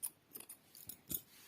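A few quick, faint snips of scissors cutting knitting yarn for a thumb sock, crisp short clicks spaced irregularly in a quiet room.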